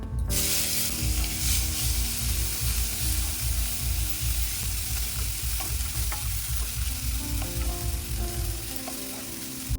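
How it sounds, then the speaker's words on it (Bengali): Onion paste with garam masala fries in hot oil in a pan just used for frying fish, giving a loud, steady, close sizzle with a busy crackle that runs almost the full length without a pause. "এই তেলটাতেই কিছুটা গরম মশলা ফোড়ন দিয়ে দেব আর তারপরে এর মধ্যে দিয়ে দেব পেঁয়াজ বাটা"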